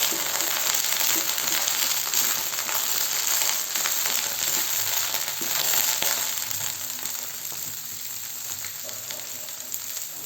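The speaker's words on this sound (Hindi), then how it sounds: "पहले हम ब्रोकली डाल के फ्राई कर लेंगे, मीडियम फ्लेम पर करेंगे फ्राई।" Broccoli frying in a pan over a medium flame, giving a dense, continuous crackling sizzle that carries on close and fairly loud throughout, easing slightly toward the end.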